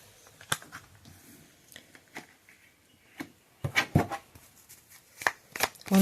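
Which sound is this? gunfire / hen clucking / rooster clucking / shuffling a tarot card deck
shuffling a tarot card deck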